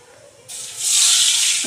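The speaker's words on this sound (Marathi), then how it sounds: "तर त्यात टाकून घेते पाणी" Water poured into a hot pan of oil with cardamom to make sugar syrup for gulab jamun sets off a sudden loud hiss that swells into a steady, rushing sizzle.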